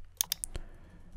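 A few sharp computer keyboard arrow-key clicks, two or three quick taps close together followed by a single firmer press, alone and close up.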